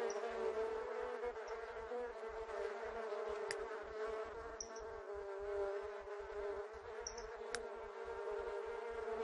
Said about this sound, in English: Oh, bees. I hate bees.